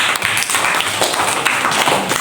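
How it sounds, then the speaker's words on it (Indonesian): A classroom of fifth-grade pupils clapping for a classmate during an Islamic religious education lesson, dense, fast, loud applause close by, sustained and uneven throughout. "ada tepuk tangan untuk Rafi"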